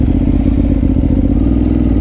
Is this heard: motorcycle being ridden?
yes